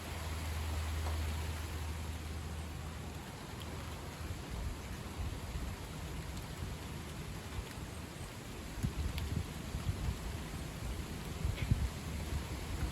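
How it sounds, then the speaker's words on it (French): Heavy rain shower under gusting wind, a dense continuous wash of falling water with occasional scattered drop impacts and slight swells in intensity, steady and close with no talk. "Là, il pleut bien."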